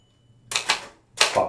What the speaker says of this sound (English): And the typing is nice and clean.